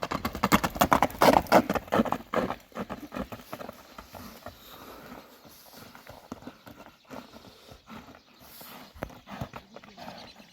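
Horse hooves clip-clopping on the ground, a brisk burst of close, loud steps early on that settles into a softer, steady patter of hoofbeats continuing throughout.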